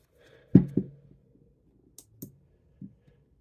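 An S Pen clicks out of its slot in a clear honeycomb bumper case on a Galaxy S23 Ultra, giving a pair of close, sharp plastic clicks followed by a few fainter taps and snaps.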